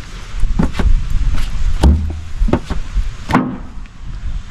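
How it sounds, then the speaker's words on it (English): A plunger works against a car body panel to pop out a dent after hot water is poured, giving a series of sharp, close suction pops and thumps spaced irregularly, the loudest near the middle. "Apparently you can use hot water and a plunger, take out a dent"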